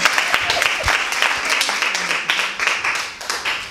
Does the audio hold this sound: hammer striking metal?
no